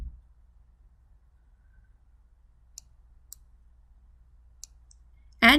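Mouse clicks while editing a document in e-sign software: three or four sharp, sparse clicks spaced over a few seconds in near silence, with a louder burst at the very end.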